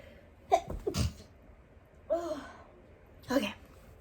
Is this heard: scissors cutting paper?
no